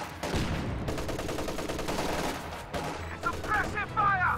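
Rapid bursts of suppressive gunfire crackle through a Company of Heroes 2 battle, dense and continuous across the clip, with shouted voice lines and battle noise layered over the shooting.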